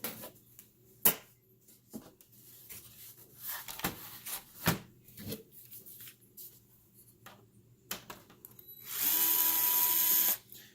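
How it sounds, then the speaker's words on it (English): A powered screwdriver backing screws out of a track, with scattered clicks and knocks followed near the end by a loud, close whirring burst lasting over a second. "Now I am using a powered screwdriver to remove the screws."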